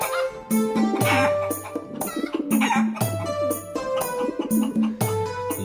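Cartoon chickens clucking in quick bursts in an animated Hindi story, fairly close and loud, with repeated short calls and no talking.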